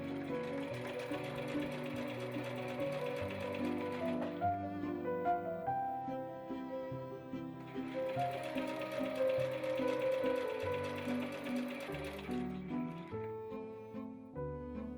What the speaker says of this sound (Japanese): でこれをまたこのように重ねてもう一度縫いますよ